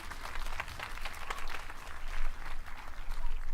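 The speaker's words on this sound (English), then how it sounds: "We should clap for them" Audience applause for a concert band, a dense steady wash of clapping at moderate distance that swells slightly toward the end, with no talking over it.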